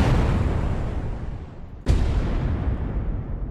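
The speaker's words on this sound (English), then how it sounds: "Those are huge explosions." Huge explosions from the video game Stray: a deep, roaring blast that rumbles and decays, then a second sharp boom cuts in midway and rolls on loudly, with no talk over it.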